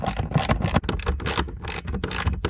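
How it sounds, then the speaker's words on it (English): Screws are driven back in by hand while refitting a speaker in an Audi A4, a close series of short scratchy scraping and ratcheting bursts separated by brief pauses. "then we can put the 2 screws back in and then screw that back down."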